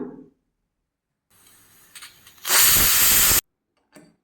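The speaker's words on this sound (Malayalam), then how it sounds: "ഇനി ഇത് ഒരു വിസിൽ വരുന്നത് വരെ വേവിച്ചെടുക്കാം" A steady hiss of escaping steam from a pressure cooker cooking jackfruit builds, then a loud, harsh whistle burst of venting whooshes for about a second before cutting off abruptly.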